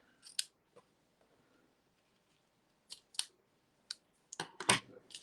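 Scissors making an angled cut through a ribbon on a seed packet favor, several sharp crisp snips in small clusters, close and quiet, with brief pauses between cuts and no talking.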